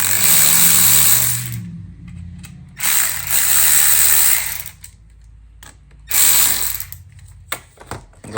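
A ratchet loosens 10mm clamps on the intake pipe of a 2JZ engine in a Lexus GS300, SC300 or IS300. Three loud bursts of rapid clicking, each separated by a quiet pause, then a few short single clicks.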